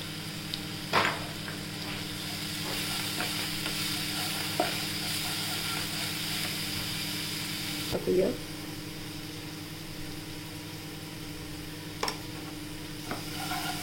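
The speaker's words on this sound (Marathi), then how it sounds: "आणि तेलात परतून घेऊया। हिंग टाकूया, हळद टाकूया," Asafoetida and turmeric sizzle in hot oil while bread potato cheese balls are being made. A soft, steady frying hiss runs throughout, with a few brief clinks and stirring knocks scattered over it.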